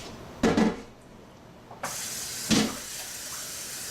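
Water runs steadily from a tap with a hissing stream, punctuated by a couple of louder splashy gushes as it fills a stock pot.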